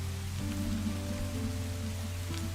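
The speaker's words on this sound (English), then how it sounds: "it's going to get super dark and it's raining" Steady rain in Minecraft falls as a continuous soft hiss, with a low droning hum and a few faint tonal notes running underneath.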